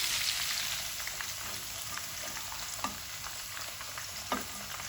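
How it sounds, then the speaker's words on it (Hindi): Crispy chicken snacks fry gently in oil over low heat, a steady soft sizzle and crackle running throughout with a few sharper pops standing out near the end. "इसको हम हल्की आंच पे पकाएंगे, चिकन भी अंदर से पक जाए।"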